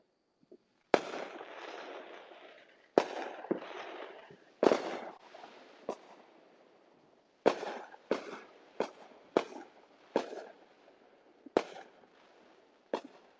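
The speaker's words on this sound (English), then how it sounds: "there are a lot of people out there firing fireworks too" Fireworks bursting at a distance in Tennessee, a dozen or so sharp pops at irregular intervals, each followed by a crackling rumble that fades before the next.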